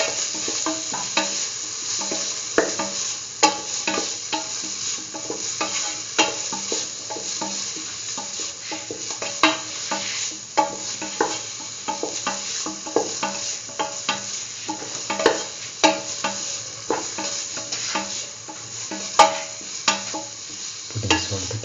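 A spoon or spatula stirs vermicelli pasta with bell pepper, tomato and spices in a hot pan, scraping and knocking in a steady, uneven rhythm over a continuous sizzle of frying, close and clear with no voices.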